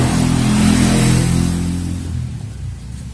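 A Honda Beat FI motorcycle engine with an open air filter revs loudly up close, then the revs ease down and it drops back toward idle.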